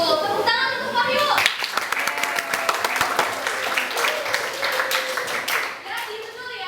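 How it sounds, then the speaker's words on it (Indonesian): A class of vocational high school students claps for a classmate in a school lesson, a loud burst of hand clapping running for several seconds with children's voices chattering underneath before it tapers off. "tepuk tangan untuk Wahyu"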